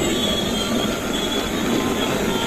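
A steady whirring rumble of a toy Thomas and Friends train running along its track, with a faint high whine, continuous and close, no talking.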